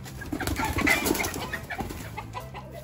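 A gamefowl hen clucks softly in short, irregular bursts, with some rustling and faint wing flaps nearby.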